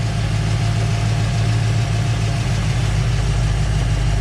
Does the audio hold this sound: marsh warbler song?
no